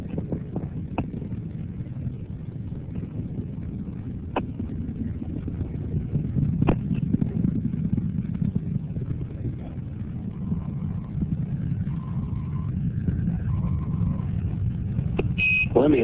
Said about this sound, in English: All three engines are now running at full throttle.